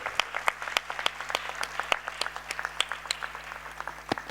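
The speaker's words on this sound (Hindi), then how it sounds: "दीदी इसको मैं हम लोग कम ही जोरदार तालियां बजनी चाहिए।" Applause from a small audience at a devotional gathering, crisp individual claps clearly separable in a steady, moderately loud patter lasting several seconds.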